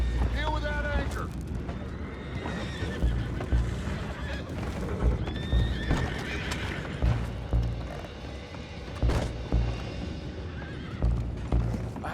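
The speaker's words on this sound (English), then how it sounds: "I have the horses under control." Horses neigh and whinny repeatedly in Red Dead Redemption 2, with hooves clip-clopping amid a busy, loud scene of rumbling and shouting voices around an anchored boat.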